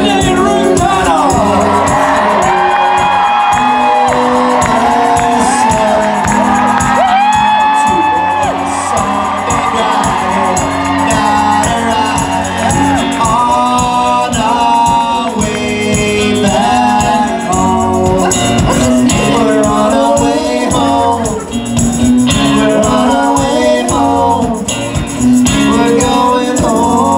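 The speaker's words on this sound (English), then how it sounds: "Please, round of applause for Felicia and Ruth Connell." An audience at a Las Vegas event cheers and whoops for Felicia and Ruth Connell. Loud, sustained crowd noise carries high shouts and cheers throughout, with voices rising and falling over a constant roar.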